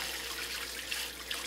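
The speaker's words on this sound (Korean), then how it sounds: "냉이를 흐르는 물로 씻어주세요" Tap water runs steadily over shepherd's purse being rinsed in a sink, a soft close trickle and splash with faint brief drips, no voices.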